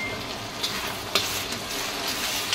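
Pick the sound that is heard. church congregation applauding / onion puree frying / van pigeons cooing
onion puree frying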